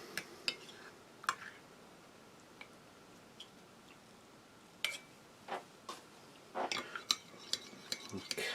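A metal US MRE spoon clinks and scrapes against a cup while fishing out a tea bag, with sparse light taps early and a quicker run of close, small metallic knocks toward the end, no talking.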